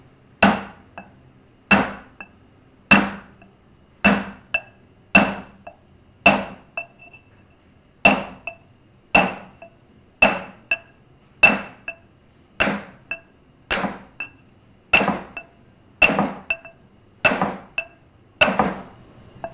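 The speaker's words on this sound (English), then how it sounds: "This time I'm not going to worry about how hard I hit it because I'm making full carbide contact on the stone." A mason's carbide-tipped chipper struck by a hammer against a stone block rings out in about twenty sharp metallic blows at a steady, slightly quickening rhythm, close and loud, with no talk.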